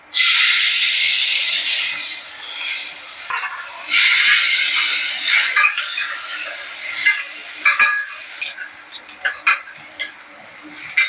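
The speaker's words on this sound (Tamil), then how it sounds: "இந்த வெங்காயமும் நல்லா செவக்கா வறுக்கணும்" Chopped large onion sizzling in hot oil with fennel seeds and spices in a pan, a steady loud frying hiss that fades into scattered crackles and pops.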